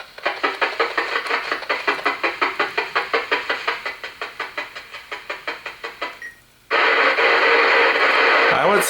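A Realistic PRO-2006 radio scanner picking up 800 MHz signals gives rapid rhythmic data bursts that pulse steadily and fade, then a brief gap and a loud continuous burst of static-like noise.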